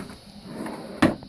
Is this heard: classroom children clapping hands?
no